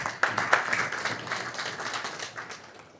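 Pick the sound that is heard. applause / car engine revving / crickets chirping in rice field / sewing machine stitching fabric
applause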